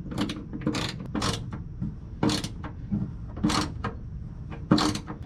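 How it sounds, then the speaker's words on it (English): A ratcheting box wrench tightens a bolt at a tie-down point on a Chevy Colorado pickup truck, giving repeated bursts of rapid ratchet clicks in a tight space, close up and fairly loud, with short pauses between strokes. "It is probably easiest done with a ratcheting box wrench like this"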